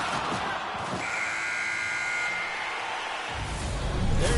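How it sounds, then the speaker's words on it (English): A period-ending horn buzzer sounds in an NHL 26 video game hockey match, a steady tone lasting a couple of seconds over faint arena crowd noise, followed by a low thump. "There's the buzzer bringing the second period to an end."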